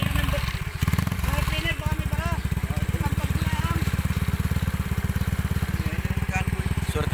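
A motorcycle with a flat tire runs with a loud, rapid, steady engine chug and thump near the listener, continuing without a break as a voice speaks over it.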